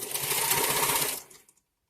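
A home sewing machine stitches fabric for a simple beginner's DIY shirt, a close, steady mechanical whir with a rapid needle patter that runs briefly, then slows and stops.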